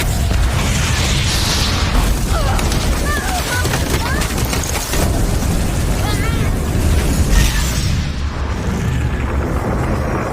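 A nitroglycerin blast in a mountain rescue film set on K2: a loud, sustained roaring rumble of explosion and fire that fills the whole stretch, with dense low-end boom and crackling debris throughout.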